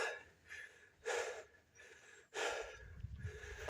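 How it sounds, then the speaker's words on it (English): Heavy, breathy gasps for air after climbing to a cloudy mountain vista in Costa Rica, two strong inhalations a second or so apart with quieter panting between, close to the mic and without speech. "Don't mind me gasping"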